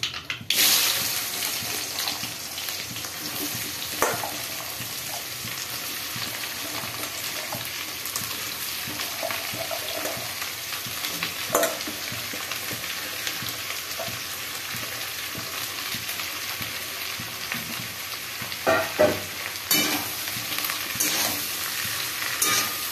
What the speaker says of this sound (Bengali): এটা ভালো করে ভাজতে হবে, লাল লাল করে।